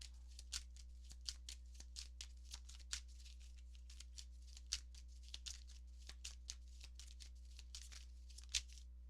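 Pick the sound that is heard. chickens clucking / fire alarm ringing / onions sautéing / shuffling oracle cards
shuffling oracle cards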